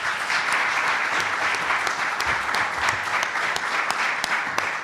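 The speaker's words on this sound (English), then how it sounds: "we give them a round of applause" Sustained applause from a sizeable crowd, dense steady clapping with no talking, holding at an even level throughout.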